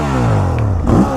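Stock 2017 Ducati Monster 1200 R engine heard up close while riding, a steady deep rumble that dips, then swells in a brief rev before settling again.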